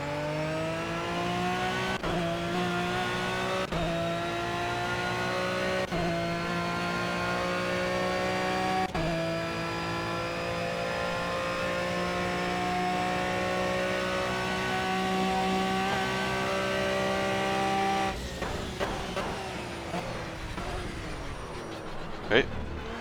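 Aston Martin Vantage V12 GT3 engine in the racing game Project CARS at Monza GP, a loud steady high-pitched drone holding near-constant revs with brief shift dips, then easing off and fading near the end.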